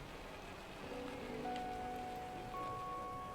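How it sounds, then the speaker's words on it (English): Acid rain on a toxic planet in No Man's Sky hisses softly and evenly in the background, with faint tonal hums from the game rising partway through and no speech. "What's that burning on my skin? No, it's acid rain."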